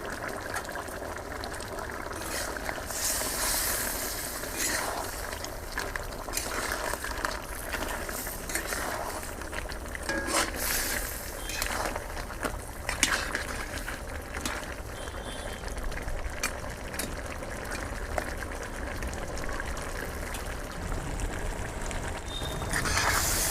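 Crab curry from the Sundarbans simmers and bubbles uncovered in a pot, a steady, moderately loud broadband bubbling that carries on evenly without pause, with no talking.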